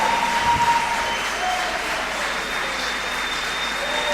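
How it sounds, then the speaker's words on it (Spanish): An audience at a 2011 apostolic church congress claps in a continuous, dense round of applause that holds at an even level from start to finish, with no talk over it. "De un aplauso al que vive, hermano."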